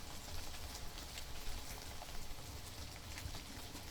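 Rain falls steadily in a tall, misty forest, a soft continuous patter and hiss of drops at a low, even level.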